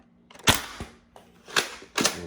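An Adventure Force Conquest Pro dart blaster fires three sharp, close shots through a chronograph, two spaced apart and the last following quickly, with a faint mechanical click between.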